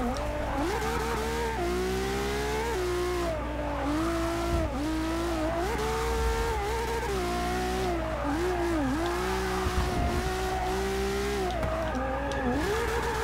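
A LaFerrari in Forza Motorsport 6 roars steadily at high revs, its engine pitch rising and dipping through gear changes while the tires squeal and skid through corners, loud and continuous with no voices.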